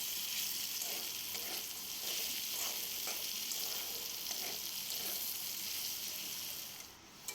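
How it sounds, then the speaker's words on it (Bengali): Snake gourd fries in a pan with a steady, close, loud sizzle that hisses unbroken for several seconds, with faint scraping stirs, dropping slightly right at the end. "তো চিচিঙ্গাটা আমার প্রায় ভাজা ভাজা হয়ে এসেছে।"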